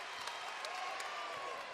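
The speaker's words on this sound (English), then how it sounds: "More or less applauding Perla doing so well." Basketball fans at a boys high school game between Irving and MAC clapping in a brief, fairly faint burst of applause with crowd murmur.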